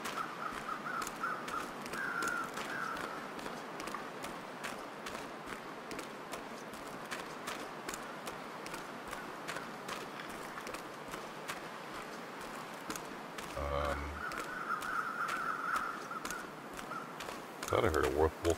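Crows cawing in The Long Dark, harsh repeated calls at moderate distance over a constant wintry wind-like hiss, with scattered crunching footsteps and a few louder calls near the end.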